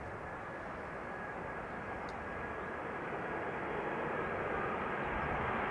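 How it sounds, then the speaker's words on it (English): A Delta Air Lines Airbus A330-300 arriving at Schiphol's Polderbaan runway gives a steady, broad jet roar at a distance that swells slightly over the seconds, with a continuous engine drone and no voices. "It's Delta Airlines Flight 164, A330-300, arriving from Minneapolis, Minnesota."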